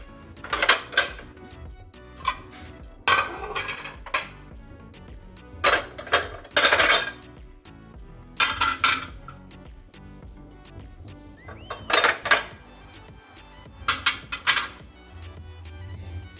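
Kitchen dishes, pots and utensils handled during home cleaning, wiped with a wet cloth then a dry one: repeated close metallic clanks and clatters in irregular bursts, with quieter rattling between and no talk.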